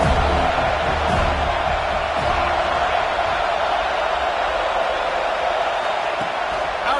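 Stadium crowd at a college football game between UAB and FSU, a broad, steady roar of cheering that holds loud and continuous throughout, with faint speech mixed in beneath.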